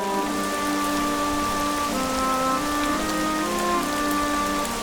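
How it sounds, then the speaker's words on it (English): Steady rain falls on a surface on a wet day, a continuous close patter with soft sustained musical tones running beneath it. "It's a wet and rainy day in Springland."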